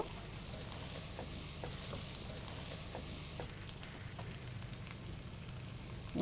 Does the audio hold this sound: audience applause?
no